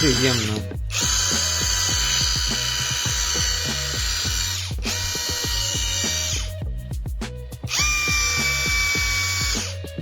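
A Sturmax CDM3204CRI cordless impact driver whirs loudly in long bursts, with rapid hammering clatter beneath the whine and short pauses between runs.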